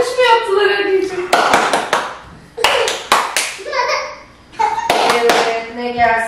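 A child's hands clap in short bursts between children's speaking and singing voices, the sharp claps close and fairly loud, coming in clusters with pauses while the voices carry on.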